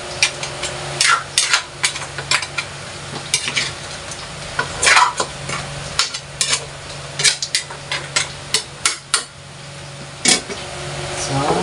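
Golden-browned pork sizzles in a pan as its Sprite adobo marinade goes in, with loud frying hiss, repeated scraping stirs and utensil clatter close by, and a person talking intermittently.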